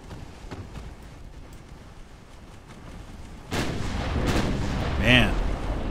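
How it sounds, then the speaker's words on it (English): In the naval video game Ultimate Admiral: Dreadnoughts, 10-inch guns boom with a sudden loud blast midway, followed by rumbling continued fire and echoing impacts. "Man, he's blocking our 10-inch shells."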